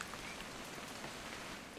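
Steady rain falls in the video game What Remains of Edith Finch as an even, close hiss of drops on surfaces, continuous and without talk.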